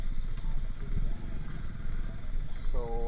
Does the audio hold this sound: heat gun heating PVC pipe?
no